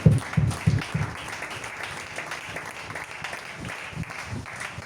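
A church congregation applauding, with a few loud hand claps at the start giving way to a softer, scattered patter of clapping that carries on throughout.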